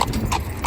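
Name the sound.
horse hooves clip-clopping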